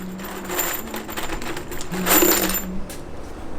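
About a dozen small metal screws clink and jingle together as a handful is passed over, a close, light cluster of rattling taps.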